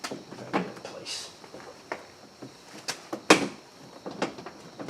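Interior door panel on a 2004 Mazda MPV being hung back in place, with scattered plastic clicks, knocks and rattling thumps at close range, irregular and fairly soft.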